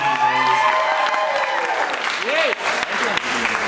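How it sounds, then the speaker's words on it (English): Studio audience applauding a player introduced on a prank show, loud dense clapping with some cheering, steady throughout, with a voice briefly audible over it. "Everyone, give Vince a nice big round of applause."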